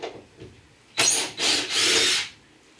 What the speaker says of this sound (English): let's go ahead and make a start taking this panel off